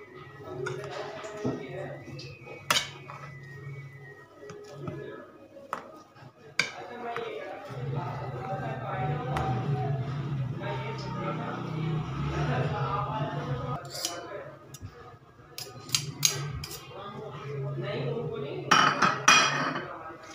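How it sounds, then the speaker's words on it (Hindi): Boiled potatoes being mashed with a metal masher in a home kitchen for aloo paratha, with repeated clinks and scrapes against the pot running under steady talk throughout. "और हमने मैश करने के लिए ये मैशर लिया हुआ है जिससे कि हम आलूओं को मैश करेंगे।"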